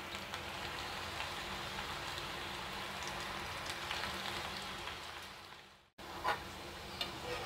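Onion pakodi frying in oil over a medium flame, a steady close crackling sizzle like rain that cuts out abruptly for a moment and then resumes with a few sharper pops.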